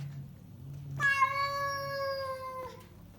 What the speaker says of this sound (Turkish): Anne kediyi önce koyalım.